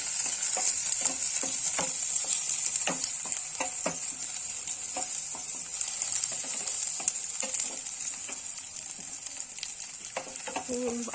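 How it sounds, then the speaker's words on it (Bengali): Chopped garlic fries in a little oil for chicken lollipop, a steady bright sizzle running throughout with scattered clicks and light knocks from stirring, close and fairly loud, no talking. "একটু ব্রাউন করে নেব ভেজে"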